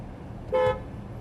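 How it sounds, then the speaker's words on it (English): A single short car horn honk sounds out clearly, lasting about a fifth of a second, over low steady road and engine rumble, heard from a Porsche Turbo S on a Las Vegas track. "As people start honking."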